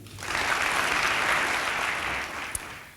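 Audience applause at a 2020 National Honor Society induction ceremony at Cardigan, steady clapping from a crowd filling the room for about two seconds before fading out.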